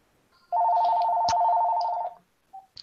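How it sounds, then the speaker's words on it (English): A single electronic telephone tone in a fantasy audio drama sounds clearly for about one and a half seconds as a steady, loud ring, followed by a brief faint chirp. "Uh-oh, that's another phone."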